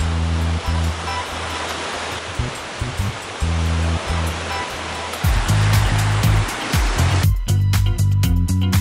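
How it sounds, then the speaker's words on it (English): Surf breaking on a white sandy beach at the Phi Phi Islands, Thailand, a steady loud wash of waves that swells heavier in the second half, with no talking. "Phi Phi Islands have gorgeous white sandy beaches"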